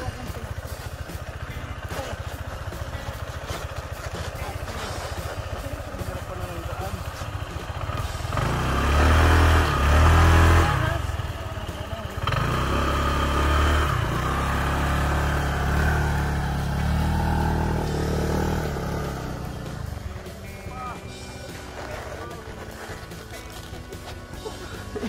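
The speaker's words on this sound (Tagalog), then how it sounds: "Ayan, sinasakyan namin ni Marlo yung motor ni Pipa" A motorcycle carrying two riders labors along, its engine a continuous rough drone that swells louder and heavier midway through, with people talking around it.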